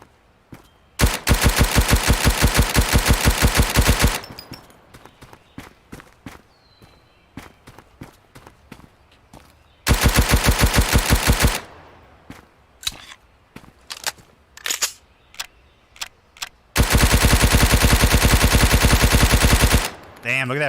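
Automatic gunfire with heavy recoil in the shooter game Road to Vostok: three long, loud sustained bursts separated by quieter stretches of footsteps and single clicks.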